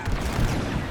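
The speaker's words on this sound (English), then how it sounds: "Taking enemy fire." Blaster fire during a starfighter dogfight in Star Wars: Squadrons, a dense, rumbling second of incoming shots and explosions, loud and close.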